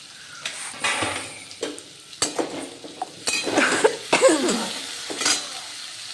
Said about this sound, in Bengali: এবার নাড়াচাড়া করে এটাকে ঢাকা দিয়ে দিয়ে ভাজবো